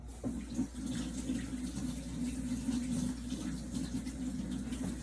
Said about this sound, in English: I'm going to wash my hands quick.